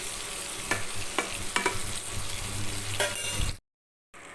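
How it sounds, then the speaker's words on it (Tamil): Brinjal pieces with masala sautéed and stirred in a pan, a steady frying sizzle broken by several scraping spoon strokes, close and moderately loud, ending in a brief silence. "கிளறி விட்டு நல்லா வதக்கிக்குங்க"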